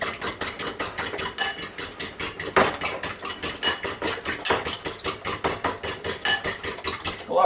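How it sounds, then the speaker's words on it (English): Farm fresh eggs whisked briskly in a bowl in a home kitchen, a fast, even run of sharp clicking strokes against the bowl that repeats for several seconds, close and fairly loud, with no talking. "now we're going to beat these eggs up here"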